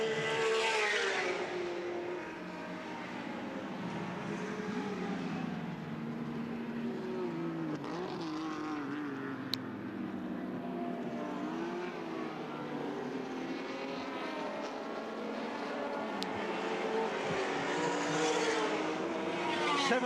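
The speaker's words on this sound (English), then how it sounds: "Look at the lock that Jim Richards had on that car as he came through Castrol Corner onto the main straight" Touring race cars in a 1984 championship round at Lakeside circuit, engines rising and fading as cars pass through a corner onto the main straight, with a steady distant roar and shifting pitch throughout.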